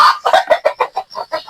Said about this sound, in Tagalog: Mga inahin.